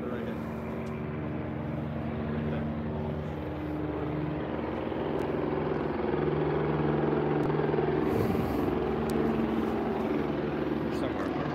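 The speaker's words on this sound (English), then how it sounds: "That's the helicopter." A helicopter drones overhead, a low steady rotor hum running throughout, while people chat nearby.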